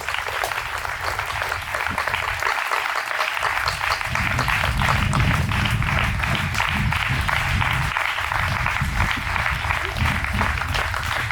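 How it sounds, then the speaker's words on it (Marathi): Schoolchildren at an Independence Day celebration at Tisgaon Vidyalaya clap for over ten seconds in a dense, continuous burst of applause, close and loud, with voices mixed underneath. "टाळ्या वाजवा"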